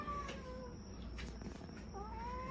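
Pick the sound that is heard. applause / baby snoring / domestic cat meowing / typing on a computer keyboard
domestic cat meowing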